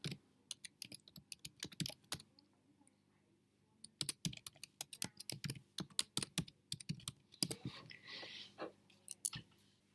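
Rapid typing on a computer keyboard, bursts of quick close key clicks separated by short pauses, with no talking.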